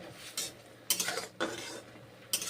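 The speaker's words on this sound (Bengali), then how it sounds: "5 মিনিট পরে নেড়ে চেড়ে রান্না করছি মাশরুম তরকারি" A spoon stirs mushroom curry in a pan, making a few close, irregular bursts of scraping and clinking with quiet pauses between them.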